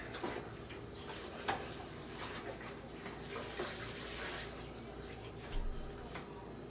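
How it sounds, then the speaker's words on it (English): Hands rinsing in bleach water at a kitchen sink, soft splashing and trickling water with small clinks, faint and close, in a short run of uneven bursts. "Let's rinse our hands again in the bleach water."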